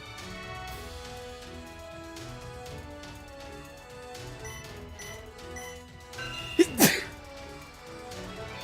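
A single sharp sneeze bursts out over a steady background of video game music while Pokémon Sword is being played.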